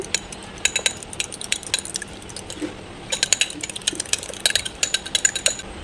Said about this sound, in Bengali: ডিমের মধ্যে একটু লবণ দেবো দিয়ে ডিমটাকে একটু ফেটিয়ে নেব